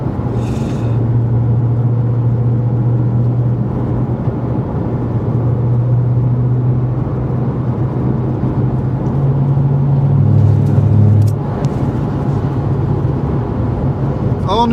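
A 2007 Mustang GT is driven hard through turns, its engine a steady, loud drone from inside the car. The pitch shifts between throttle and braking, with a brief surge of revs near the end.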